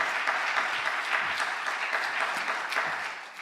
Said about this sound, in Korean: 김진희 시각장애인 워십 사역자를 박수로 한번 모시고 함께 찬양하며 하나님께 영광 올려드리겠습니다.